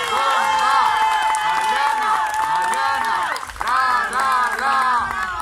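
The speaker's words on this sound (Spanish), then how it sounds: "Y esos aplausos fuertes, que se escuchen." Party guests at a quinceañera applaud and cheer loudly while music with a steady beat plays, the clapping and whoops rising and falling across the clip.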